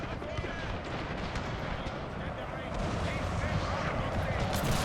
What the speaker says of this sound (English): Don't like the pistol shots coming out from this one.